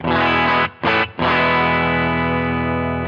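Electric guitar played through the Line 6 Stadium XL's Diana amp model, a thick, sustained distorted tone with two brief gaps in the opening second before a long ringing chord that holds steady to the end.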